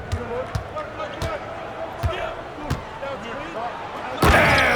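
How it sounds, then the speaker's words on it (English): Basketball bouncing in the NBA 2K26 video game, sharp rhythmic dribble thuds over arena crowd noise and commentator talk, ending in a louder slam dunk impact. "And it's slammed in by Durant."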